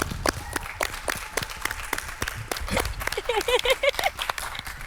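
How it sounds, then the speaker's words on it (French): An indoor crowd gives Guinea's team a round of applause at a youth agricultural innovation event, steady clapping running for several seconds, with a brief vocal cheer rising near the end. "On applaudit pour la Guinée!"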